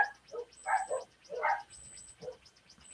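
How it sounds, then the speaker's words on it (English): Several dogs bark and yip in short bursts from a moderate distance, a busy, uneven chorus with brief gaps between outbursts and no talking over it. "All these dogs are driving me insane."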